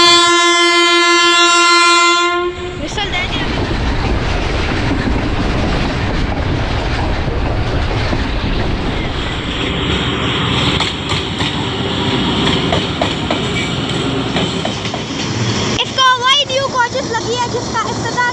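A crowded passenger train at Golra railway station sounds a long horn blast, then rumbles and clatters loudly and continuously with wheel clicks and screeching near the end, close by, with people talking.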